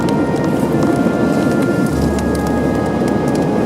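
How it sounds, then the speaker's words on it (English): A dense swarm of sandhoppers on a dark beach at night makes a steady, continuous patter much like rain falling on a surface, heard close and alone with no voices. "That is the sound of sandhoppers."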